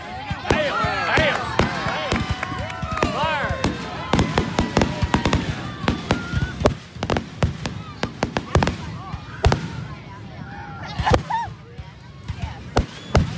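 Fourth of July fireworks and firecrackers banging in rapid, irregular bursts of sharp nearby cracks and pops, with whistling rockets early on and people talking and shouting between blasts.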